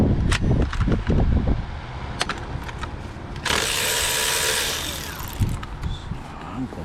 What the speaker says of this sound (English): So I'm going to use my ratchet.